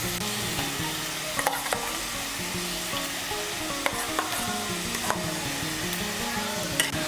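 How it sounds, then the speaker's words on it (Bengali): Ginger paste and tomato paste sizzle steadily in a hot pan while being stirred, with soft scraping clicks from the utensil over a constant close frying hiss. "এই দেখুন, টমেটো বাটা আর আদা বাটাটাকে একটু ভেজে নিয়েছি"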